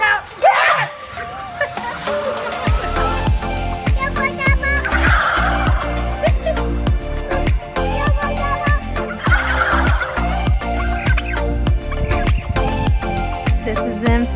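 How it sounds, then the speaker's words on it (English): A turkey gobbles loudly and repeatedly nearby in a farmyard, its rapid rattling calls coming in bursts while children's voices chatter faintly in the background. "This is the infamous turkey."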